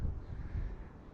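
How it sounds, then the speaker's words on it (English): Low, steady wind rumble buffeting the microphone outdoors during an Attop W70 GPS quadcopter flight, a continuous gusty roar with no voices. "this is a lot of wind for a quadcopter like this actually"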